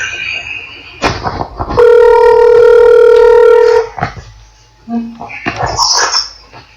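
A telephone call is placed with a short series of dial beeps followed by a steady tone, loud and close, with a voice and handset noises before and after.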